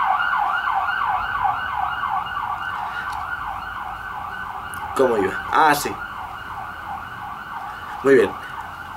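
Wailing police patrol car siren sweeping up and down steadily as it passes on a street, loud and continuous, with a few brief bumps of noise and short speech from people nearby.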